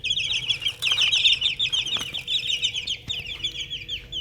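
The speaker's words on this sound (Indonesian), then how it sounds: "Tampak sehat-sehat sekali ayam saya ini." Bangkok chickens in a backyard home coop, a busy chorus of close, high clucks and chatter repeating steadily, with a brief wing flap partway through.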